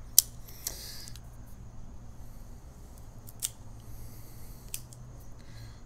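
A cigar cutter snips a cigar with a sharp click near the start, followed by a few quieter clicks and handling noises against a near-silent background.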